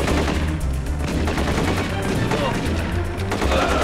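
Rapid gunfire in a video game, dense bursts of automatic shots fired at an enemy, loud and continuous with brief gaps between volleys.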